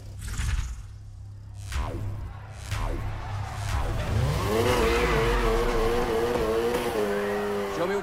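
A car drifting in the video game Need For Speed Heat, its engine revving up with a rising, sustained tire squeal that grows louder and holds to the end.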